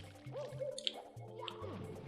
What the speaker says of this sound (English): I ground pounded into the water